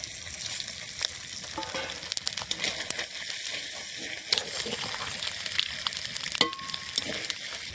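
Bay leaf, dried chilli and whole cumin seeds sizzling in hot oil in a pan for a Bengali fish curry, a continuous close frying hiss with scattered sharp crackles and pops.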